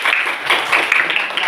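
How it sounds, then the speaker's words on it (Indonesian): Applause in a classroom for a student after a presentation, a steady patter of many hands clapping close by, moderately loud throughout with a faint voice underneath. "Oke, tepuk tangan untuk Fitriah dulu."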